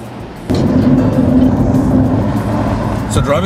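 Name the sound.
1998 BMW M3 convertible turbo driving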